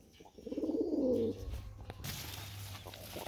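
One pigeon gives a single clear, close coo, followed by quieter fluttering and rustling in a pigeon loft for sale in Delhi.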